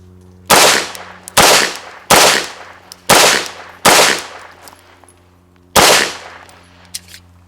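A Beretta M9A3 pistol fires at a shooting range. Six loud, close shots come at roughly even intervals with a longer gap before the last, each followed by a short echoing decay.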